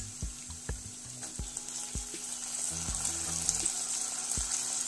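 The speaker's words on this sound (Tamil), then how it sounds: "சுண்டைக்காய் சேர்த்து இதையும் தண்ணி விடாமல் நல்லா வதக்கி விட்டுட்டே இருக்கலாம்." Green turkey berries (sundakkai) and onion sautéing in a pan, with a steady close sizzle and repeated light knocks and scrapes of stirring throughout.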